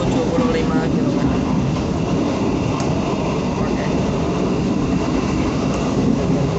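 Inside a moving passenger train between Semarang and Solo, a continuous loud rumble and rattle of the carriage on the rails fills the space steadily throughout.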